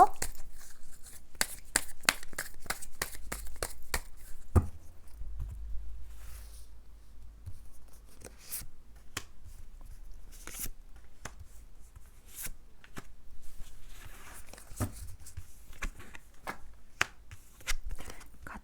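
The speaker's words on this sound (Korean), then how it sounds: "제가 추가 카드 뽑은 다음에" Tarot cards are shuffled and drawn during a reading. Rapid, close riffling clicks come first, followed by scattered single card snaps and slides, with a brief low rumble in between.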